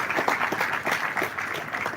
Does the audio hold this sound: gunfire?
no